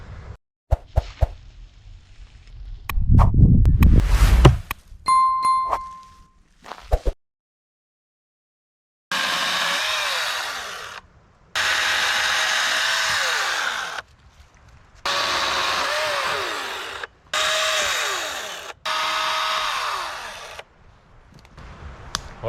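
An electric chainsaw runs in the woods, with handling clatter at first. It then cuts in four long steady bursts of high whining buzz, each separated by a short pause, close and loud with no speech.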